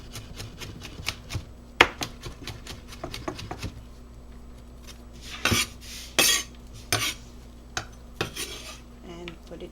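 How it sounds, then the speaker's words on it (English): A knife chops garlic on a board in irregular clusters of sharp, close taps, mixed with the clink of utensils and dishes. A few louder, scraping bursts come near the end. No voice is heard. "so I chop my garlic"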